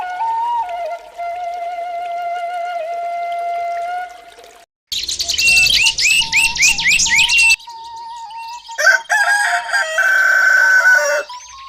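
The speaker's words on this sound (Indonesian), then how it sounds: "Iya, itu suara ayam berkokok." Several bird calls in sequence, including a loud rooster crowing with its rising, drawn-out call, followed by sharp chirps and squawks.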